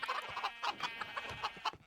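Chickens in a video game cluck rapidly and loudly up close, a busy run of short repeated clucks with no talk over them.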